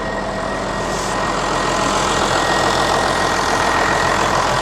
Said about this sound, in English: It's got obviously a Cummins engine in it, so they sound lovely.